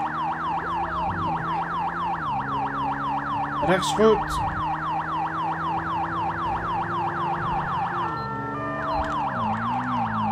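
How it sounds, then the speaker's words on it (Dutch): A police car siren from the GTA 5 game wails in a fast, repeating yelp throughout, loud and continuous, its pitch sweeps steady until a brief shift near the end, with a short burst of other noise midway and someone speaking briefly over it. "Ik heb mijn sirenes toch aan."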